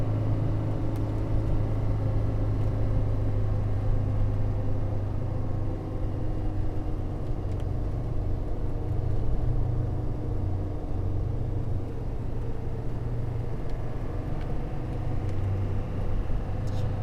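A custom classic Land Rover Defender 130 cruising in third gear at about 40 mph on a twisty road, its engine and road rumble forming a steady, loud low drone throughout with no talk.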